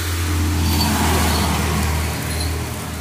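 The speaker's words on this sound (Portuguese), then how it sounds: "Passando o carro aqui." A car passes on the street in front of a house as a low, steady rumble that swells slightly and then eases, heard at moderate distance with no talking.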